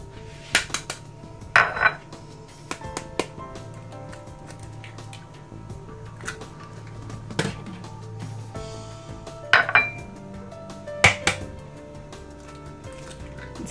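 Eggs cracked into a bowl for quinoa, zucchini and kofta balls in a home kitchen: scattered clinks of shell and utensil against the dish, with soft wet squishes between, no talking.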